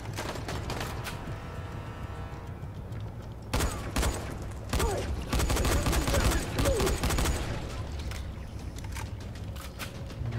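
Bursts of rapid gunfire in the video game Dying Light crackle in clusters over a low steady hum, with loud volleys in the middle and quieter stretches between.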